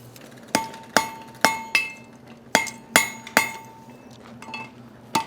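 A hammer strikes a hot chain link on an anvil during forge welding, ringing out in a run of about ten sharp metallic blows at an uneven pace, close and loud.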